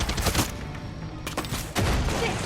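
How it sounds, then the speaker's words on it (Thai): Bursts of gunfire ring out in Far Cry 6 as a helicopter is shot down, loud rapid volleys separated by a short lull. "ยิงสอย สอยไปเรื่อยๆ กระสุนเรามีน้อยใช้สอยยังประหยัด"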